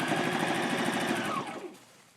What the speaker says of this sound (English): So you're going to sew right through that